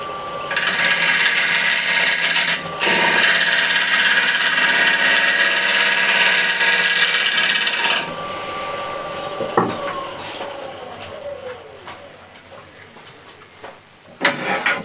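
A ball gouge cuts along the rim of an Osage orange bowl spinning on a lathe, giving a loud, steady hissing scrape for several seconds that stops abruptly, followed by quieter intermittent tool contacts and a brief clatter at the end.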